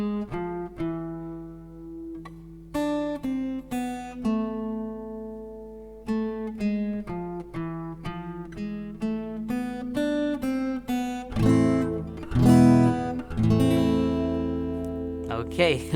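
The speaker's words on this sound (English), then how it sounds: "we can quickly end it with an outro which sounds something like this" A clean fingerstyle guitar plays a Bella Ciao outro, plucked single notes giving way to fuller strummed chords toward the end, close and unaccompanied.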